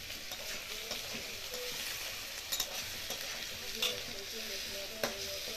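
Potato pieces with a little turmeric being stirred in a hot frying pan, a continuous oily sizzle broken by several light scraping and clinking strokes of a spoon, close by and fairly quiet.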